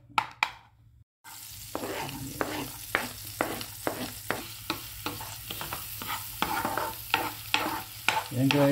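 Garlic and onions fry in butter in a pan, a steady sizzle punctuated by regular scraping stir strokes roughly every half second, close and alone.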